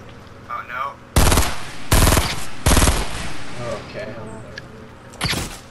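Gunfire in the video game Fortnite: several loud bursts of rapid automatic shots, each lasting roughly half a second, with players talking between the volleys.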